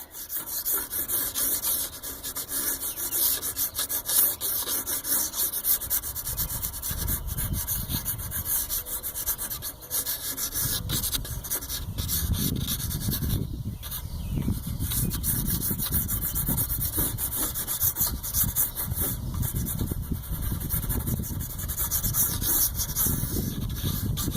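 Pastel scruffed onto paper during plein air painting outdoors, a continuous close scratchy rubbing and scraping that keeps steady through the whole stretch with no talk.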